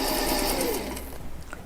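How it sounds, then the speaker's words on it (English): A sewing machine runs a quarter-inch quilt seam, its close, loud, steady whirring stitching going for about a second before it slows and gives way to quieter handling. "Sewing with our 1/4 inch seam."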